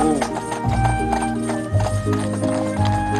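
Several horses walking along a rocky clifftop trail, hooves clip-clopping in a steady uneven rhythm close by, with a brief whinny and faint voices in the background.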